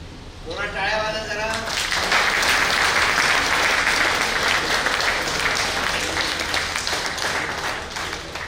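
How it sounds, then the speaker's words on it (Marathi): A crowd at a college felicitation event breaks into loud, sustained applause. Many hands clap together for several seconds, and a voice is heard speaking briefly just before the clapping swells. "टाळ्या वाजा जरा"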